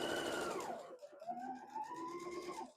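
Sewing machine stitching quilt seams, a steady close whir whose pitch rises and falls slightly as the fabric feeds through, with no voices.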